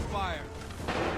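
Game musket fire in Assassin's Creed III, a sharp volley cracking out near the end of a short stretch, with earlier tonal game sounds and a voice-like layer running underneath.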